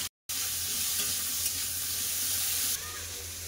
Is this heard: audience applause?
no